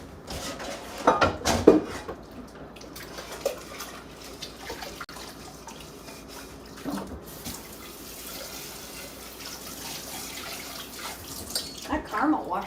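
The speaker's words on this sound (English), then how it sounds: "Let me rinse this out." A tap runs into a sink as caramel is rinsed out of a pan, a steady splashing stream with clanks and knocks of the pan, close by; a voice speaks briefly over it.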